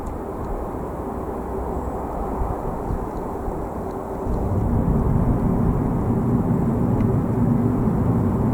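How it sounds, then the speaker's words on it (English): Airplane flying over Belfast at night, a low steady rumbling drone that grows louder midway and holds, distant but filling the background with no voices. "there's a plane going across"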